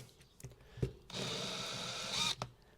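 A power drill in hammer-drill mode, used while stripping down a Corgi toy Lotus car, whirs steadily for over a second between a few knocks and clicks, then stops abruptly.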